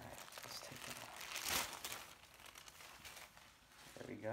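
Thin plastic wrapping on a new Boston Celtics City Edition jersey crinkles near the mic as it is unwrapped, with a louder crunching burst partway through and softer rustling on either side.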